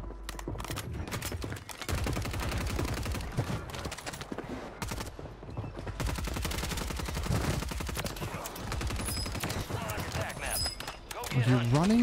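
Rapid automatic gunfire in a video game, dense bursts of shots running through most of the stretch with players talking over it and brief quieter gaps.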